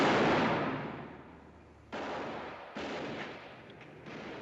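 Gunfire in an old western film, a quick burst of loud sharp shots followed by abrupt bangs and echoing reports, somewhat muffled and distant in quality.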